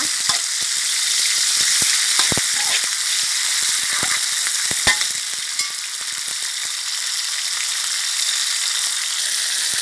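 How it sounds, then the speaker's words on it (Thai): Sliced pork tenderloin stir-frying with chili, a loud, dense, steady sizzle with occasional sharp clicks and scrapes of the spatula, heard close up and without talk. "หมูเนื้อสันสไลด์ค่ะ ประมาณสองขีด ใส่เลยค่ะ ผัดกับพริกให้หอมก่อนนะคะ"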